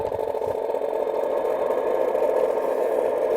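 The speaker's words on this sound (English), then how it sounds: "function 6, another motor sound." Motor sound effect from a Hornby model locomotive's DCC sound decoder, a steady mid-pitched whirring hum that runs continuously at an even level with no talk over it.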